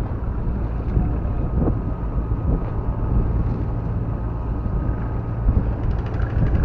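Motor of a small Vietnamese wooden boat on a shallow river, running steadily as the boat turns, with a continuous low rumble and some wind buffeting on the microphone.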